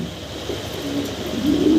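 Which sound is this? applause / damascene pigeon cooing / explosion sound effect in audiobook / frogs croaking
damascene pigeon cooing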